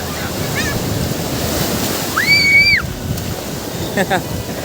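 Big sea waves crash on a beach in Lebanon, a steady broadband roar of surf with wind buffeting the microphone and a few brief voiced sounds over it.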